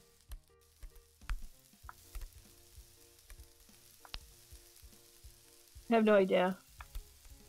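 Bread frying in a pan in the video game I Am Bread, a short burst of sizzling near the end, after quiet clicks and small game noises, with a brief spoken remark.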